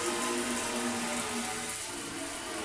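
Steady broadband rush of tap water running into a kitchen sink during dishwashing, constant and fairly close with no voices.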